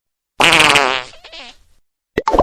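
A loud, drawn-out fart rasps close by, trails off, then after a short pause a couple of quick sputtering bursts follow.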